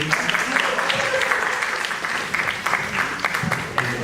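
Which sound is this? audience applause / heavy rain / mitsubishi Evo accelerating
audience applause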